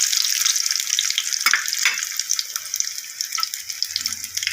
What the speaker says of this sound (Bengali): ডিমটা একটু অল্প করেই ভাজবো, বেশি ভাজবো না, অল্প করেই ভেজে নামিয়ে নেবো